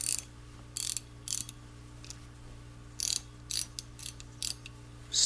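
Reversible ratcheting long wrench, 6-point satin chrome, clicking through its mechanism in short bursts of crisp ratchet clicks separated by pauses, close up and fairly quiet over a steady low hum.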